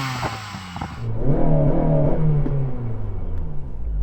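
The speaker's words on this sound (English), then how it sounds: "Daniel, can you rev up your SNT?" A Honda Civic Type R engine, with a 5,500 soft limiter, revs up from a low idle and climbs into a steady, loud held rev near the limiter, droning close by without talk.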